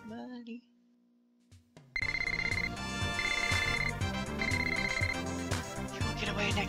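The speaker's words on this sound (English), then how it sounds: "I get a phone call." A phone rings in the PS1 game Saga Frontier: a steady electronic ringtone of repeated bright tones that starts suddenly after a short quiet stretch and keeps going over game music.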